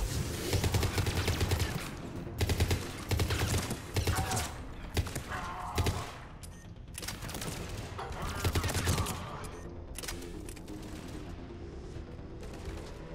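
Bursts of automatic gunfire in the video game Mass Effect 3 come in repeated volleys with short gaps between them, loud and close, and a voice talks faintly underneath.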